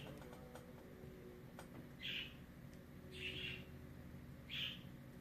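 Pet birds chirp in a room, three short bright bursts spaced about a second apart, moderately close, over a steady low hum and faint rustling.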